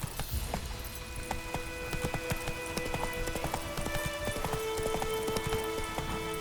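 Horse hooves clip-clopping at a brisk pace in The Witcher 3 video game, a steady close rhythmic patter of hoofbeats with faint rattling tack.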